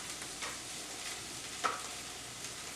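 Seasoned Philly cheesesteak meat cooking in a pan, a soft steady sizzle with faint stirring scrapes, fairly quiet and without voices.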